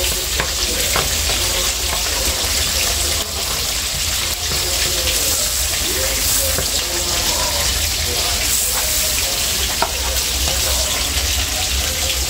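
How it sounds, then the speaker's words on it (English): Vegetables saute in butter in a hot pan with a continuous, loud sizzle and frying hiss, occasionally stirred, throughout. "we are going to saute the vegetable in the butter"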